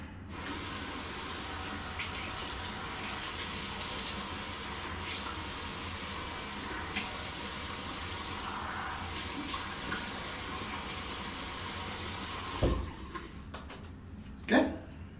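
A bathroom tap runs steadily while someone wets their face before a shave, a continuous splashing flow that fills most of the stretch before stopping, followed by a couple of brief knocks near the end.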